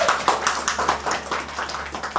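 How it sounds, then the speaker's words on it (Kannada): Applause at a birthday celebration, a short burst of clapping from a small group with uneven, overlapping claps, moderately loud, with a voice faintly underneath. "ಚಪ್ಪಾಳೆ."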